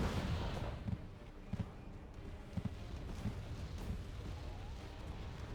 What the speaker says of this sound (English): as they get slowly picked off by the cluster artillery